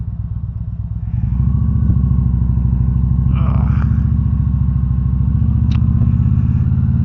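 An Indian motorcycle engine idling close by, a steady low throbbing rumble that picks up slightly after the first second and holds evenly throughout.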